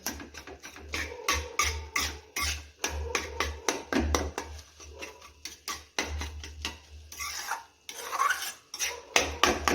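Minced keema in a pan is stirred with repeated scraping and clinking strokes of a spatula against the metal, close and busy.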